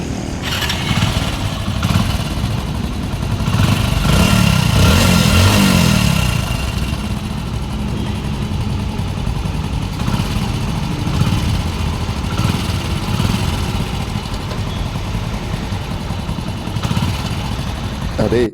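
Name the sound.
engine of a low-mileage used vehicle running, likely a motorcycle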